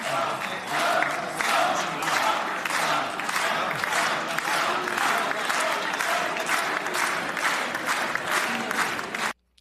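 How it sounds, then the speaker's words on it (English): Crowd in the Knesset applauding and chanting for President Trump, with loud, rhythmic pulses of clapping and voices in a steady beat lasting several seconds before stopping abruptly. "take a listen to the crowd chanting for him"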